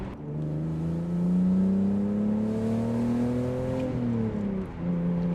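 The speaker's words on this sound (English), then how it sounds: "why does it sound like an E46 M3?" BMW E46 with a six-cylinder engine accelerating, sounding like an E46 M3, a close, loud, smooth rising engine note that climbs through the revs, briefly dips as it shifts, then pulls again.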